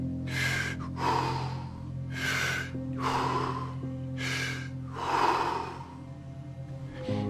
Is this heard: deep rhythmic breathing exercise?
yes